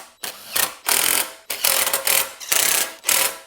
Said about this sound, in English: 7/16 wrench on the back.